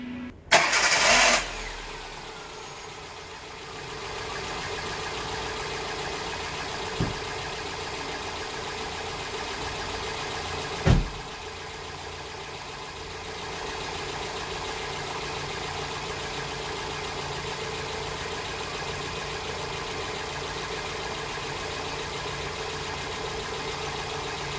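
A Hyundai Getz engine idles after a valve clearance adjustment, starting up with a brief burst and then settling into a steady, even mid-pitched hum with a couple of faint knocks, close and alone.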